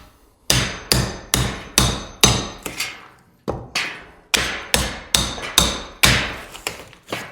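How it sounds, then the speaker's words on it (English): Drywall being pried and popped off wall studs with a pry bar during demolition, heard as a series of about a dozen sharp, loud cracking thuds in an uneven rhythm with a short pause midway, close by and without talk. "Now, I can get my pry bar behind the drywall."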